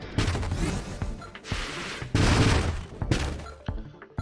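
Missiles fire in the space shooter game Nova Drift, a loud, dense barrage of booming blasts and crackling explosions in rapid overlapping bursts with a few short lulls.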